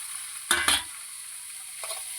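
Two tomatoes go into a butter tempering for a corn chevdo, giving a couple of sharp stir clatters over a quiet, steady background sizzle, close up with no voices.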